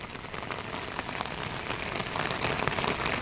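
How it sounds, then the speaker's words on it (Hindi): Heavy rain pours down in Haridwar as a dense, steady hiss of drops striking hard surfaces, loud and unbroken throughout, with no voices. "धर्मनगरी में बहुत जोर की बरसात जारी है।"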